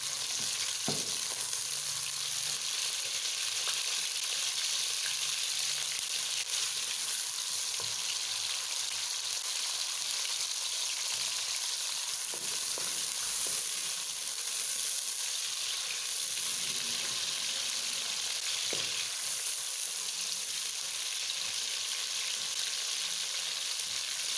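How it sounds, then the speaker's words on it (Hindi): Chopped onion fries in a pan as it browns, giving a long, even sizzle with occasional faint stirring taps and no voices. "उसके बाद प्याज डाल देते हैं, एक प्याज कटी हुई, उनको हल्का सा ब्राउन कर लेते हैं।"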